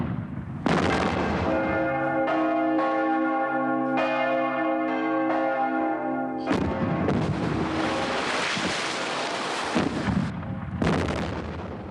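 Large church bell rings out in sustained, ringing strikes with long metallic overtones, then heavy booming blasts like cannon fire crash in over it, loud and reverberant.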